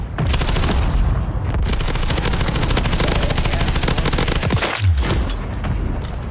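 Relentless close automatic fire from a Kastov LSW machine gun on Rebirth Island in Call of Duty, a loud continuous stream of rapid shots with a brief gap and a booming hit near the end.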